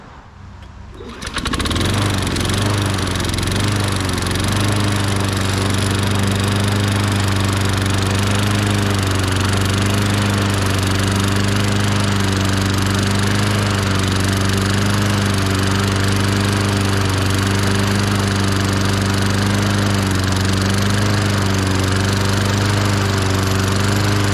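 1998 Ariens 21-inch self-propelled lawn mower engine catching after a brief moment and settling into a loud, steady, throbbing run that holds close and constant throughout.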